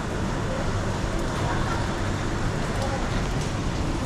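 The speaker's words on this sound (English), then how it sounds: "Kind of raining today." Rain falls steadily on a street in Macau near the Cotovelo courtyard, an even, constant hiss mixed with a low rumble of distant traffic, with no clear breaks.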